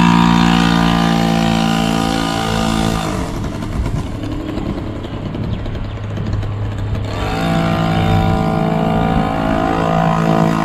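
A TVS XL 50 moped's small engine drones loudly and steadily while riding, dipping and swelling as the throttle changes, with wind noise over the motor.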